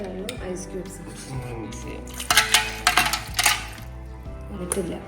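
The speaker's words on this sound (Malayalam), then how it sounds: "ice cubes" Ice cubes drop into the jar of an Atomberg Zenova mixer grinder while grape juice is being prepared, giving a cluster of sharp clinks and knocks near the middle and another at the end, with a voice talking throughout.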